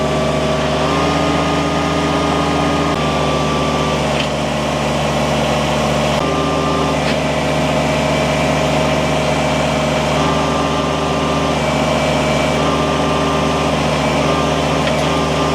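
Kubota BX23S compact tractor engine revved to about 3,000 RPM while lifting the loader bucket with a backhoe attached: a loud, steady high engine drone with shifting tones as the hydraulics load it, close and continuous.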